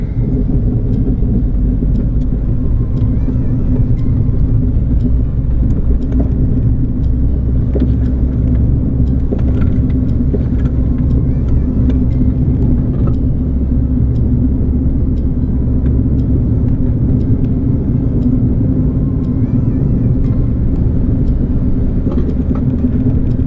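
A Renault Clio engine drones steadily at low pitch on a race track, a constant loud rumble with small ticks and rattles, like driving at speed.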